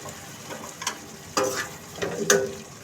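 Fresh green peas added to potatoes frying in a pan for aloo matar capsicum sabzi, a steady close sizzle with a few louder stirring scrapes and clinks on top, no voices.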